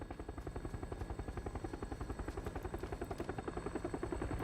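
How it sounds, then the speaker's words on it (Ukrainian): A helicopter in the PUBG video game thuds with rapid, even rotor chop throughout, steady and fairly loud, with no talk over it. "Вертушка."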